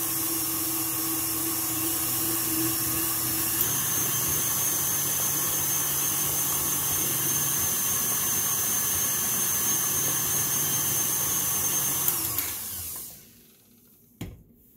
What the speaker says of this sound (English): I'm going to mix this well.